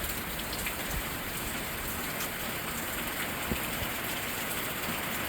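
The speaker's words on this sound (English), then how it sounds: "Raining again." Steady rain falling outdoors on a hike in St John, a dense, even hiss of drops on surfaces with occasional louder patters.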